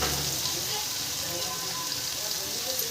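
Steady, loud sizzling of cooked rice frying in a hot pan, a continuous crackling hiss with no pauses.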